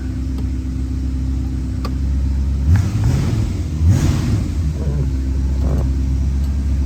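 A 1965 Ford Mustang engine running with a deep, steady low rumble at idle, briefly revved twice in quick succession midway before settling back down.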